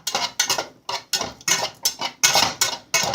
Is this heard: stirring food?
yes